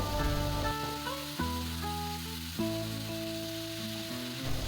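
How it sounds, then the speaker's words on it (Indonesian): Thinly sliced winged beans stir-fry in an open pan with a steady, soft sizzle. Louder background music with sustained tones plays over it throughout, and no one speaks. "Tumis kecipir hingga berubah warna ya"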